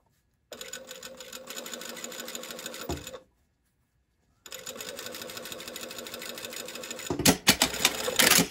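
A sewing machine stitches a shirt placket seam in two long runs of fast, even mechanical whirring with a silent pause between them, close and loud, ending with a few sharper clunks as it stops.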